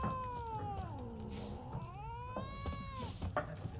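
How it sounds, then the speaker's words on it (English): A cat in The Witcher 3 video game gives several drawn-out, wavering meows that rise and fall in pitch, close and clear over a low background hum. "I want the kitty to like me."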